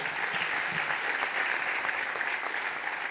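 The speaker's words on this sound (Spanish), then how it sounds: "este aplauso es para ustedes" Steady, dense applause from a church congregation fills the space evenly and without a break, loud and close, with no voice on top.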